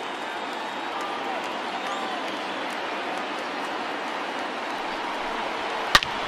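Stadium crowd in the baseball video game MLB The Show 20, a steady broad roar of a large crowd cheering, with one sharp crack near the end and a voice at times.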